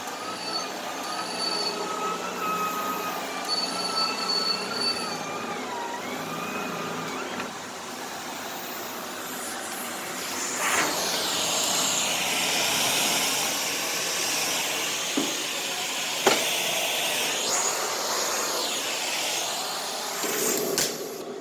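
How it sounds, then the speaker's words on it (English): A steady high-pitched whistling hum of suction from a cordless power head on a central vacuum hose runs throughout, growing broader and louder midway, with a few brief sharper peaks and no talking. "That little whistle is a suction noise."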